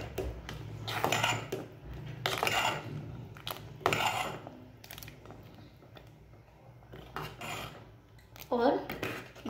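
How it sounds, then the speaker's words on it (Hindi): Gram-flour pakoras added to yogurt kadhi in a pot and stirred, with irregular scraping and knocking of a spoon against metal, moderately close and fairly quiet. "बस अब देखिए इन सारी भजियों को मैं इसमें डाल देती हूँ और इसको ऐसे करके सबको मिक्स कर लेती हूँ।"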